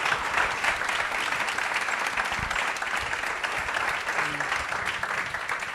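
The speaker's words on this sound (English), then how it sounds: "can we just have a lovely round of applause?" An audience claps for the speakers at an underwater photography talk before questions begin, a thick continuous roar of applause that holds steady and fades slightly toward the end.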